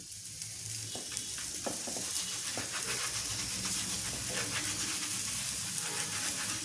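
Onion-besan wheat paratha roasting with ghee on a hot griddle: a steady, close, dense sizzle with faint crackles throughout, no talking.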